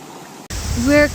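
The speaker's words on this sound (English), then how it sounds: "I ended up sitting in a place where the sound of the river was at its loudest" A loud river rushes steadily outdoors at a picnic spot in nature, a close, broadband roar that starts abruptly and fills the whole clip, with a voice rising over it near the end.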